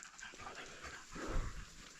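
Dogs panting on a walk through an autumn forest in mushroom season, a soft, steady breathy rhythm that swells louder and closer near the end over low outdoor background noise.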